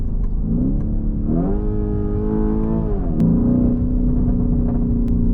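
Lamborghini Urus super SUV with an Akrapovic exhaust accelerating through its gears, a loud, close engine note that rises in pitch, drops at a shift and then climbs again, with nobody talking.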